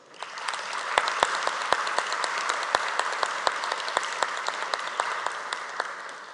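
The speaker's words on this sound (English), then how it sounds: "Could you please affirm that with another round of applause?" Delegates at the opening ceremony of an election bodies' general assembly give a round of applause, a dense, even crowd clapping that swells in quickly, with crisp nearby claps popping out above the steady wash.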